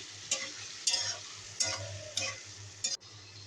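Taro fries with a paste of onion, garlic, chili and mustard in a pan, a soft sizzle under four or five sharp scraping stirs spaced evenly apart.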